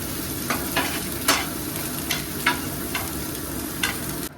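Sliced onions fry in a hot pan, a steady sizzle running throughout while a utensil tosses and stirs them in several scraping strokes, close and fairly loud, with no talking.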